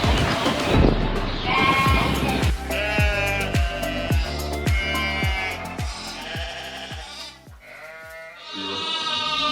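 Sheep bleat repeatedly at close range, several animals calling over one another in steady overlapping cries, with a busy flock and barn noise underneath.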